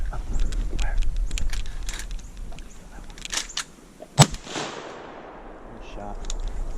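A shotgun fires once during an outdoor duck hunt, a single loud sharp blast standing out above wind noise and a little nearby rustling.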